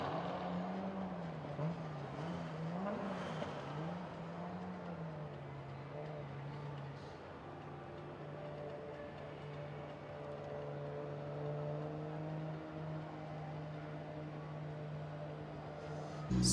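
A drift car engine drones steadily at FIA Intercontinental Drifting Cup qualification in Riga, a sustained tonal hum that wavers in pitch early and then holds, heard from a distance over a faint ambient background without voices.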